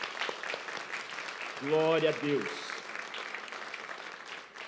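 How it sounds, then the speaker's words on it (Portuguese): A church congregation claps to welcome first-time visitors, a dense round of applause throughout with a voice speaking over it midway. "vamos receber os nossos visitantes com uma salva de palmas"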